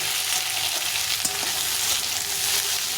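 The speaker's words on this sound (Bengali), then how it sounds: "আলু আর পেঁয়াজটা অনেকটা ভাজা ভাজা হয়ে গেছে লাল লাল হয়ে গেছে" Potatoes and onions fry in a pan with a steady, close sizzle and a few soft stirring scrapes, and no voices are heard over them.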